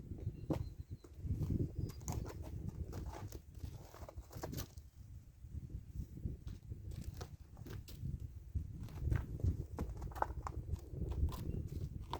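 A horse's hooves clop and shuffle close by as it steps and is turned around in place for saddling, a quiet uneven run of footfalls with occasional small knocks.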